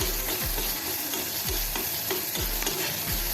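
Asafoetida, ginger, garlic and green chilli sautéing in a pan for a dhaba-style capsicum and onion curry, a dense steady sizzle with rhythmic stirring strokes about every half second.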